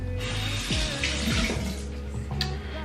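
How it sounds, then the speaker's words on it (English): Water runs steadily from a tap into a sink during a nighttime skincare routine, a close, continuous splashing stream with faint handling sounds and no talking. "Put a little water because my face felt like I just dried up a little bit."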